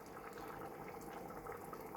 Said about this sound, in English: Now in goes the boiling water